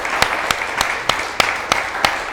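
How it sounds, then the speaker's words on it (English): Brief round of audience applause at a startup networking event, steady broadband clapping with a few sharper regular claps standing out, moderately loud and without talk. "give Ian a big round of applause"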